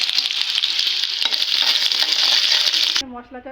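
Chicken pieces for roast fry in hot oil, giving a loud, bright crackling sizzle for about three seconds before it cuts abruptly to a brief quieter tail with a faint voice.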